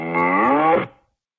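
A single drawn-out cow moo, about a second long, plays through speakers during a seminar presentation, clear and steady before cutting off into silence.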